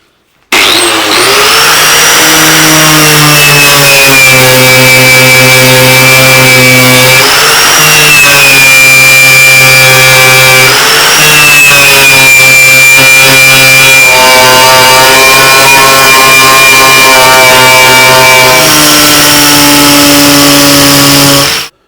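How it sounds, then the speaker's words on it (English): An angle grinder grinds the rusty body of a Citroen C1, a loud, continuous high-pitched whine that holds for a long stretch and dips and rises in pitch as the disc bites into the metal. "I've had a good old grind along the sides."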